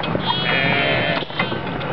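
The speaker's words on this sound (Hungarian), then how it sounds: "milyen eredeti ez a két dorfer bárány" Dorper lambs on a farm bleating close by, a wavering, drawn-out cry that fills most of the moment and fades into a shorter second call, no talk over it.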